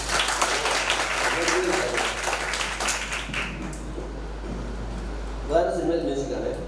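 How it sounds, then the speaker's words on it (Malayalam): Audience at an international talent show in Payyannur, Kannur, clapping in a short burst that fades after a few seconds, then a second softer round of claps, with a low steady hum underneath. "ഒരു കയ്യടി ഒന്ന്."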